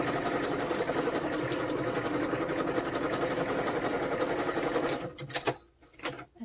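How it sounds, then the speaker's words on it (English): A sewing machine runs in a steady, fast, close whir while stitching a paper pocket, then stops abruptly, leaving a few soft handling knocks. "Add a little bit of stitching. I have my sewing machine to my left."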